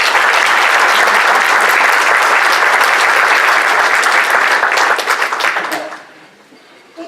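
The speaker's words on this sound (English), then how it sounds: "Give them a big round of applause" Applause from a magic show audience, a loud, sustained crowd clapping that holds steady for about six seconds before dropping off abruptly into near quiet.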